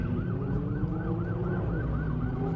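A police siren wails in a steady, repeating rise-and-fall pattern at a nighttime-style car meet, moderately distant over a constant low rumble of idling car engines, with no talking.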